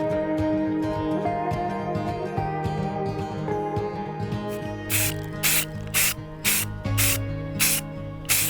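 Spray painting a bed frame for a garden art project, a series of short hissing aerosol bursts in quick succession, close and distinct over a background of background music.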